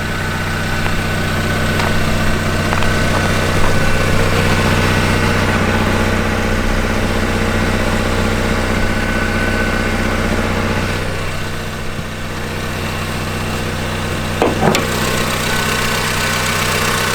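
A car engine idles steadily, a loud, close, continuous rumble with a faint rattling, leaky-sounding edge that dips slightly partway through, with no one talking.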